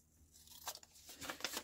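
Scissors cutting paper for a craft project, a few short, faint crisp snips and rustles close by, spaced unevenly across a quiet moment.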